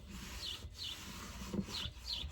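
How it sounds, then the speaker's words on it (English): Light sanding on a wooden upper cabinet inside a camper van, with several short rhythmic rubbing strokes close to the microphone and brief pauses between passes. "I might lightly sand this cabinet over here."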